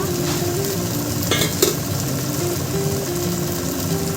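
Onions frying in a pan with chopped green chillies, a steady close sizzle with soft stirring and scraping, brief louder clatter midway.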